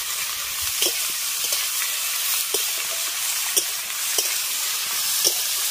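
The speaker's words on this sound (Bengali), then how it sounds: "হলুদ আর লবণ দিয়ে কুঁদরিটাকে ভালো করে আগে ভেজে নেব।" Ivy gourd frying in a pan with salt and turmeric, a continuous close sizzle with small scraping clicks from stirring.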